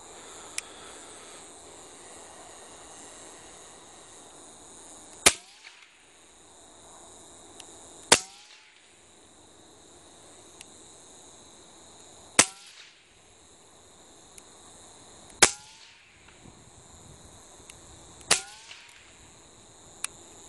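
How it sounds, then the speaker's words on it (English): Five sharp, muffled cracks of a suppressed .22 rifle, spaced a few seconds apart, over a quiet outdoor background. "we're going to take a couple shots with the 22, see how she sounds"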